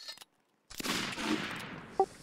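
Video game gunfire in Attack on Tiradores: a short pause, then a burst of blasts fading into a rumbling decay, with a sharper crack near the end.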